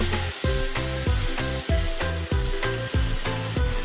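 Steady sizzling as potato, onion, zucchini, green onion and chilli stir-fry in a hot pan, with repeated scraping stirs at a regular rhythm, close and fairly loud, no voices.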